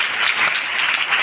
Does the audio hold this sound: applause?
yes